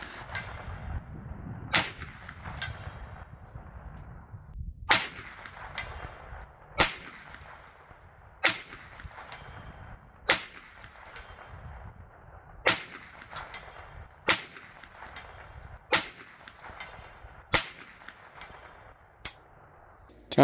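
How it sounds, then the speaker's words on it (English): Rifle shots at a steel target plate leaned against something rather than hanging: a slow, regular string of about a dozen sharp cracks, one every couple of seconds, each fading quickly over a low background rumble. "it might not ding that loud because it's not hanging and it's leaned up against something"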